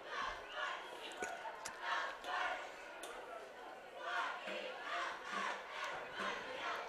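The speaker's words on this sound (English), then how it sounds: "Cheerleaders still cheering." Cheerleaders at a high school football game, Mountain View vs Los Gatos, chanting in rhythmic crowd shouts rising and falling amid general stadium noise, faint and distant.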